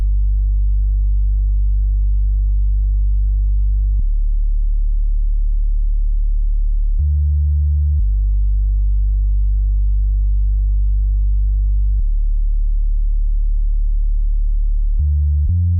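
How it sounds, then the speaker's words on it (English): A deep, smooth synth sub bass for an Afro house beat plays long sustained low notes in a repeating pattern, clean and steady with no other instruments. "this sub bass is just playing the same pattern of the bass line I showed you earlier."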